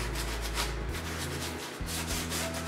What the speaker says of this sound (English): another use for Gojo is cleaning rust off of metal